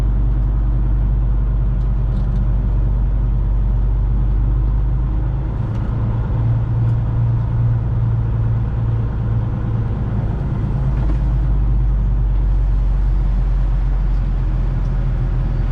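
A semi truck drives on, its engine a steady, loud low rumble that stays constant throughout with road noise layered on top.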